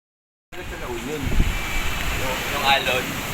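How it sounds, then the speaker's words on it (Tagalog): Steady rushing of ocean waves at a beach with wind buffeting the microphone, voices talking over the surf throughout. "Yung alon."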